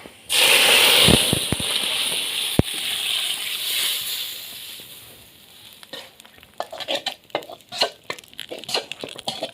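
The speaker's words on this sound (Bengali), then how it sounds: "ফোড়ন হয়ে গেছে এখন ডালটা দিয়ে দিব" Mash kalai dal tipped into hot spiced oil, setting off a loud burst of sizzling and crackling that fades into a steady fry, then gives way to scattered stirring scrapes and pops near the pan.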